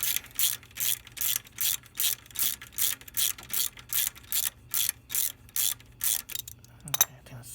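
A ratcheting Allen wrench works a fastener on the right rear set of a Moto Guzzi V9 Bobber motorcycle, giving about fifteen even ratchet clicks in steady rhythm, close and alone, ending in a brief metallic knock.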